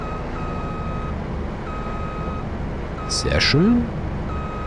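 A farm vehicle backing up in Farming Simulator 22 sends out steady, evenly spaced reversing beeps over a low engine rumble, with a short spoken remark and a sharp electronic blip partway through.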